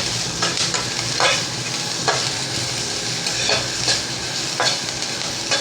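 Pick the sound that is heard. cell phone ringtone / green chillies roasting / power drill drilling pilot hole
green chillies roasting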